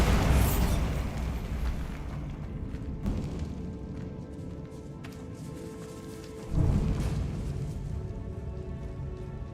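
The Bombarda blasting spell goes off in the Hogwarts Legacy video game inside a decayed catacomb, with a heavy rumbling explosion, a dull boom about midway and a second deep burst near the end, all over a low continuous roar.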